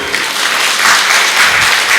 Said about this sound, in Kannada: ಚಪ್ಪಾಳೆ ಹೊಡಿತಿರೋದಕ್ಕೆ ಕಂಜೂಸಿ ಮಾಡಬಾರ್ದು